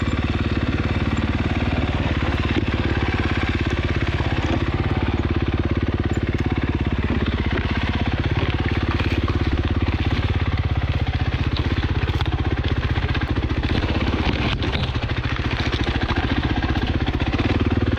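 An overheating dirt bike engine running on an off-road trail at Hollister Hills SVRA, a loud, close, unbroken drone that holds steady throughout.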